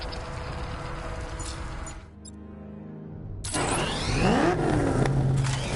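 In the video game Batman: Arkham Knight, a car engine hums, drops out briefly, then returns louder with revving and scraping mechanical sweeps, with no speech over it.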